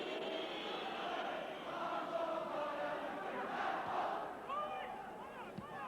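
A large football stadium crowd at a 1987 Premier League match, Celtic against Dundee United, roars and chants steadily as a continuous, distant wash of voices with a commentator speaking over it.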